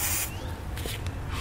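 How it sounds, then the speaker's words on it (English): Spray lubricant hissing from an aerosol can into the threaded frame holes of a 2019 Nissan Rogue during a hitch installation, a close, steady spray burst over a low background rumble. "I'm going to spray a little bit of spray lubricant"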